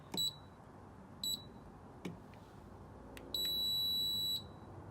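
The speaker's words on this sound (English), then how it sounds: "We should get a long beep after that" An RVLOCK keyless lock on an RV, programmed with its key fob, gives two short electronic beeps, a click, then one long steady confirmation beep lasting about a second, high-pitched and clear against a quiet background.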